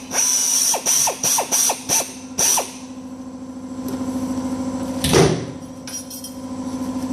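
Power drill driving a self-drilling screw into a dented car body panel, starting with several short loud bursts of whirring, then a quieter mechanical hum and a brief clunk midway through.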